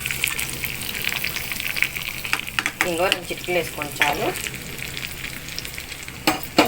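Dried red chillies and curry leaves sizzle in hot tempering oil with mustard, cumin, fenugreek and coriander seeds for sambar. The crackling is close and busy, with a few stirring knocks, while someone talks over it.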